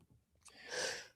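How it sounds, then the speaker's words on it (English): A single sneeze, a short breathy intake followed by a sharp burst of air, close and fairly soft. "Why am I still sneezing?"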